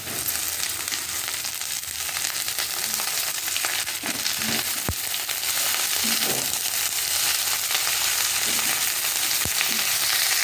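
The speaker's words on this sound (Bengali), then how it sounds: "এবার আমি শাকটা দিয়ে দেবো আস্তে আস্তে" Potato greens going into a pan of oil where onion, garlic and green chili are already frying, giving a steady loud sizzle with a few sharp clicks and stirring scrapes throughout.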